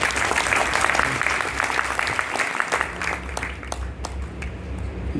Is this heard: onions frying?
no